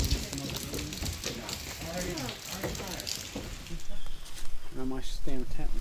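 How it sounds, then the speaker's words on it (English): Steady rain patters outdoors at a campsite, a close hissing wash that continues under several people talking. "Back out into the rain."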